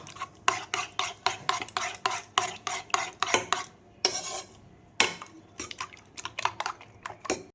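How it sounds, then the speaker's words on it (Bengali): Three eggs are whisked into a batter in a bowl, a rapid run of sharp metallic taps and clinks from a utensil against the bowl, with a couple of short pauses between bursts. "তিনটে ডিম দিয়েছি এবার ব্যাটারটা তৈরি করে নেব"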